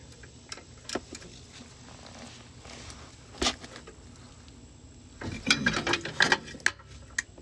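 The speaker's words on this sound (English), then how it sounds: "Take our 16 ratchet" A 16 mm ratchet working on the brake caliper bolts of an SL 500, with a few scattered clicks early and then a denser burst of ratcheting clicks and metal knocks near the end, fairly close and with no talking.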